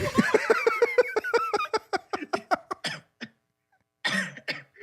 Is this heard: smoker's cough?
yes